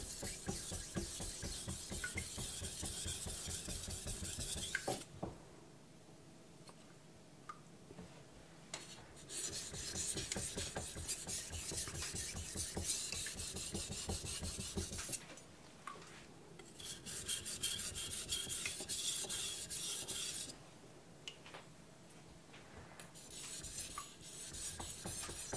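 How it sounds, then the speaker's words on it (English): A knife blade scrapes in steady rasping strokes across a Naniwa Pro 1k whetstone, continuous passes broken by a couple of brief pauses, close and fairly quiet with no talk. "I'm gonna do a couple of passes on each side. Just to set the bevel."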